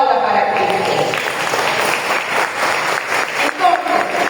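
A church congregation applauds during a Spanish-language sermon, a steady wash of many hands clapping at once that holds for several seconds at a fairly loud level, with voices mixed in.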